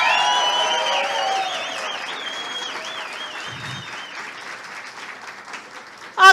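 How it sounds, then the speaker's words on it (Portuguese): Sustained applause from a seminar audience, a dense wash of clapping that slowly thins, with whoops and high cheering voices on top. "Vamos dar uma salva de palmas"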